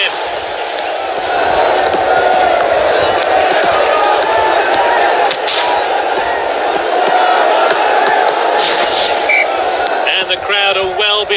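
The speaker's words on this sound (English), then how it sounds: "Crowd are well behind their team now." A stadium crowd roars steadily in the Dream League Soccer 2019 football game on Android, a loud continuous wash of cheering that runs without a break.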